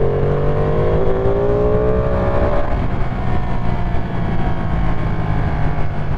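Ducati Panigale V2 motorcycle accelerating hard with a quick shifter, its engine note climbing in pitch before a quick shift drops it, then a rough roar continues over heavy wind rush, close and loud.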